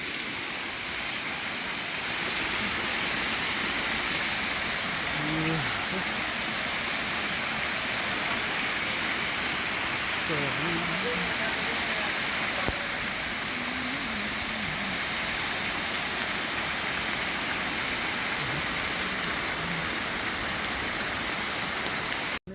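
A waterfall that flows all year, water pouring down from above: a constant broadband rushing roar, dense and steady for the whole stretch, with faint indistinct sounds barely showing through.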